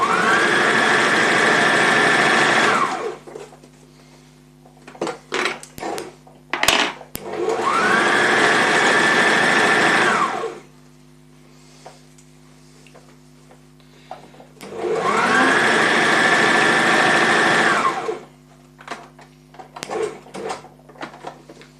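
A sewing machine runs in three bursts of a few seconds each, stitching fabric with a steady whirring buzz, separated by quieter clicks and handling noises between runs.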